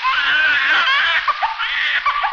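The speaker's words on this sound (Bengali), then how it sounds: "বাচ্চার কান্নার আওয়াজ মনে হলো।" A baby cries loudly and continuously in a high, strained wail that breaks into shorter sobbing bursts toward the end, heard up close at night during a storm, with no talking over it.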